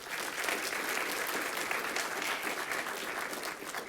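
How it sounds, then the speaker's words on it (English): A conference audience at a cybersecurity keynote gives the event staff a steady, dense round of clapping that holds evenly for several seconds without pause. "let's give them a little round of applause"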